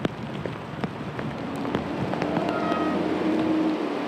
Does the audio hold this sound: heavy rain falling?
yes